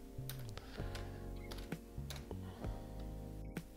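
PHP code being typed on a computer keyboard: a quiet run of irregular, soft keystroke clicks over a low, steady tonal hum.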